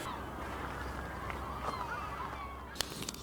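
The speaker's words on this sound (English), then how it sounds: "I'm just taking in this view, listening to the seagulls." Seagulls call faintly on a windy outdoor shore at sunset, a few thin cries rising over a steady bed of wind noise, with a brief clatter near the end.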